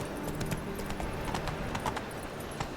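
Roach, Geralt's horse in The Witcher 3, moving at a quick pace with steady hoof clops over a dense game backdrop of ambient sound and music, fairly loud and continuous throughout.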